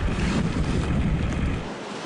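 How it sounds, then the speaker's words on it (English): Heavy ocean surf from a storm surge pounding a seawall in Marshfield, Massachusetts, during the 2015 blizzard, a dense continuous roar of waves churned by strong wind, loud and close with no voices. "The storm surge punching out a 50-foot hole in the seawall in Marshfield, Massachusetts, one of several communities at the mercy of the tides."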